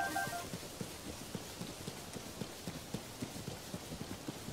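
Horse hooves clip-clop in a steady trotting rhythm in The Legend of Zelda: Tears of the Kingdom video game, crisp regular hoofbeats, fairly quiet and alone over a soft ambient background.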